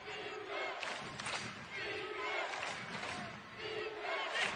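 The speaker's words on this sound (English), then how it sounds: "This crowd is imploring defense, defense." A basketball crowd at an NCAA men's game between Louisiana Tech and Western Kentucky chants "defense" in a repeating two-beat rhythm, loud and reverberant, in the closing seconds of a tight game.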